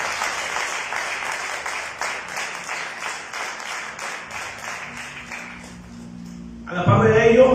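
A congregation at a Spanish-language church service claps together in a steady, dense round of applause that gradually fades, followed near the end by a louder burst of voices and crowd noise.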